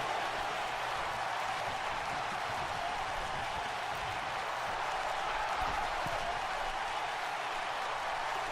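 Wrestling crowd at a live event cheering and applauding, a dense, steady wash of clapping and crowd noise that holds throughout, fairly faint and distant.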